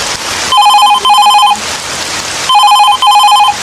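A telephone bell rings in two pairs of bright electronic bursts, about half a second each, over a steady wash of heavy rain heard from a balcony late at night. No one speaks.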